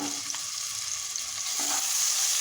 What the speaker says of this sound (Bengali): তেল গরম হয়ে গিয়েছে। এখন পেঁয়াজটাকে ভেজে নিব।